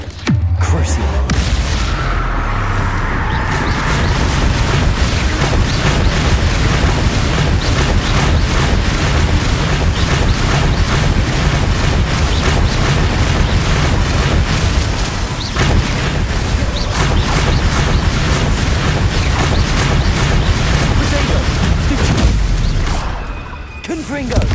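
Repeated magical blasts from the Confringo and Bombarda spells in the Hogwarts Legacy video game, loud and continuous booming explosions and crashes for nearly the whole stretch, with spell names called out over them.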